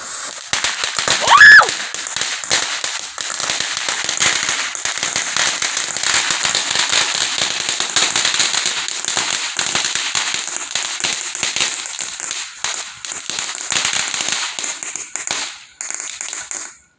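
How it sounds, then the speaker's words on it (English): Fireworks set off to make a rainbow-colored burst; a long, dense crackling of firecracker-like pops continuing for many seconds, loud and close, with a whistling rise at the start and the crackle thinning out toward the end. "This is supposed to be a rainbow of explosion."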